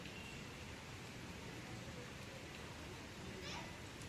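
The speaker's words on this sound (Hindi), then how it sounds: "फाइनली बारिश आ चुकी है।" Rain falling outside, a faint, steady wash of hiss with no breaks, heard from a distance and without distinct drops.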